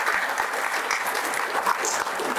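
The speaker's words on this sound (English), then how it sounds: "Everyone sitting at the back should give big applause for Azhar Shahid." An audience at an event applauds the chief guest, Azhar Shahid, with a steady wash of many hands clapping at moderate distance, continuous and even for the whole stretch.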